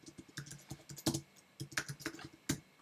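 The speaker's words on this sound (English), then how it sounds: "In this section, you can simply type the player name" Quiet, close clicks of a computer keyboard come in a quick irregular run as a name is typed, with a few louder keystrokes standing out.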